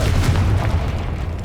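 A single deep, rumbling boom from a Confringo blasting spell in Hogwarts Legacy, loud and close, decaying over a second and a half with no voices.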